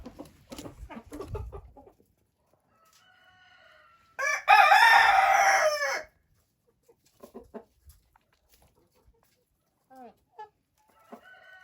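A rooster crows loudly once, close by, while Dark Shell hens cluck intermittently before and after in an otherwise quiet enclosure.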